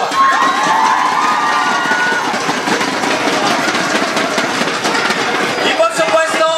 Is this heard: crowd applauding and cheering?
yes